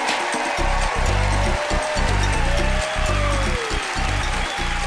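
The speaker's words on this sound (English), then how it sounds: "How about another nice round of applause, Rita Rudner?" Audience applause for comedian Rita Rudner at a stand-up comedy show, a continuous wash of clapping that runs through the whole stretch while loud music plays over it.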